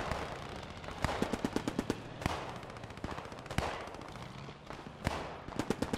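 Sustained gunfire in the World War II shooter game Post Scriptum, with sharp rifle shots and bursts of machine-gun fire cracking at irregular intervals over a constant battlefield rumble, some reports close and loud, others more distant.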